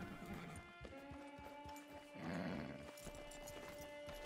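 A horse in Red Dead Redemption 2 slows and stops as it is parked, a few hoof clops and a brief snort over a quiet sustained music bed, fairly faint.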